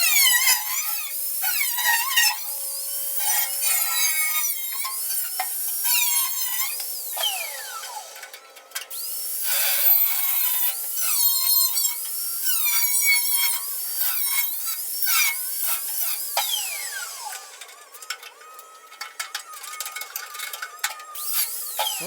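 A power tool cuts rust spots out of a COOT ATV body, whining and screeching in bursts with pitch sweeps as it bites into the metal. The cutting is steady and fairly loud, with brief pauses.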